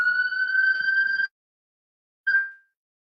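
An ambulance siren passes nearby, a faint, steady electronic tone held for about a second, then cut off, followed by a brief final chirp.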